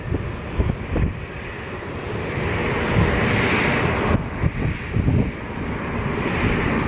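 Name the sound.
Southwest airliner pushing back at windy Columbus airport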